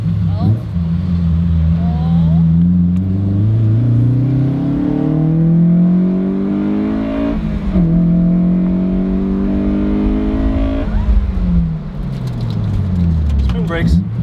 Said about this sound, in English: I really like how deep it sounds